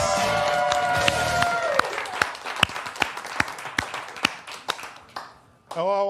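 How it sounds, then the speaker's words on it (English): Loud applause from a studio audience thins out into a single person clapping, sharp claps spaced about half a second apart, and a voice starts at the end. "Hello, I'm still clapping."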